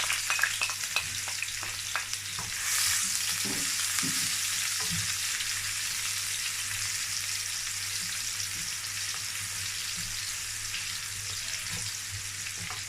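Chopped onions frying in oil in a pan for a beef tomato sauce, a steady dense sizzle that runs close and loud throughout, with a few stirring knocks early on.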